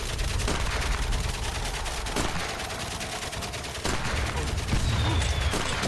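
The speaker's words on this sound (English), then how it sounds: "Yeah, I know they're shooting at me." Gunfire in Valiant Hearts rattles toward the player as a loud, sustained fusillade of rapid shots with sharp individual cracks, continuous across the stretch, with a faint voice underneath.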